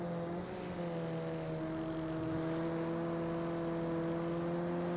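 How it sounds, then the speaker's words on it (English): A KTM race car engine drones steadily in Project CARS 2, its layered harmonic whine rising slightly, mixed with the exhaust of a Porsche Cayman racing on Fuji GP, continuous and fairly loud with no talk. "You can actually hear the KTM's engine now over the exhaust of that Porsche Cayman."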